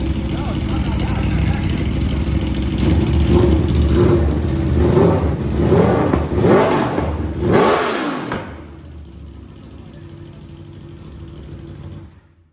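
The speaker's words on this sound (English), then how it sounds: "That was really loud when it revved." A Honda Fireblade motorcycle with an open exhaust pipe revs loudly and close by, several rising throttle blips swelling in the first eight seconds before dropping back to a lower steady engine drone, with voices talking over it.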